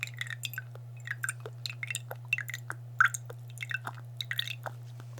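Lemon juice poured into a cup of lemon honey tea gives soft, close drips and small wet clicks in an irregular patter over a steady low hum, with no talking.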